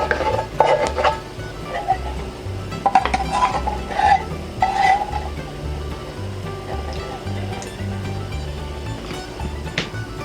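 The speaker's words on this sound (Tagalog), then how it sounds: "Ngayon po ay ibubuhos na natin tong ating gata dito sa ating kawali." Coconut milk pours into a cooking pan for bibingkang malagkit, a soft, continuous splashing with a few light metallic clinks of pan and utensils near the start.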